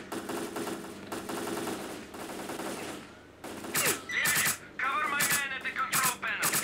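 Repeated automatic gunfire bursts crack out in the video game STALKER Clear Sky, loud and near, with short pauses between volleys and metallic clinks after several bursts.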